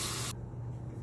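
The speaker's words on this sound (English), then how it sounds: "Now I'm going to rinse the razor." Brief burst of running tap water as a shaving razor is rinsed, a close hissy splash that cuts off abruptly, leaving low room hum.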